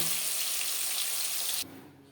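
Pieces of silver carp fry in hot oil in a pan, a loud, steady, close sizzle that cuts off abruptly near the end, leaving a quiet room.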